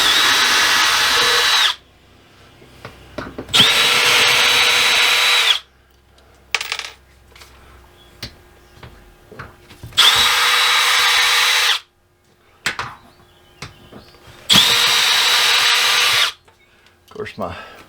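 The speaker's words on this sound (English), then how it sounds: "my Milwaukee M18 drill makes that a fast little job" Bursts of a Milwaukee M18 cordless drill backing screws out, four loud whirring runs of a few seconds each separated by quiet handling clatter and small clicks.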